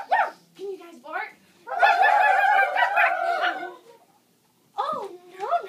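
A group of children imitate dog barking together in a classroom during storytelling, a burst of overlapping woofs and yips lasting a couple of seconds, with an adult voice speaking before and after.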